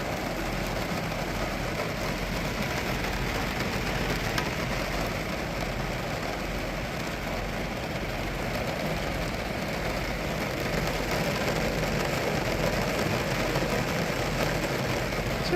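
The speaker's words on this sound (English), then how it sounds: "I just want you to listen to the doggone rain that's going on." Heavy rain drumming on the roof of a camper van parked at a lakefront campsite, a steady dense wash of patter that stays loud and even throughout with no one speaking.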